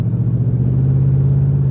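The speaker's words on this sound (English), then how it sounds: "I have an exhaust leak in this car" An Infiniti Q45 engine with an exhaust leak idles in a steady, loud, low drone with a rapid puttering pulse underneath, heard up close and alone.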